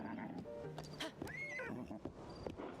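Horse neighing in a video game: a single whinny rises and falls mid-clip, with clip-clop hoof sounds and other faint game noises around it.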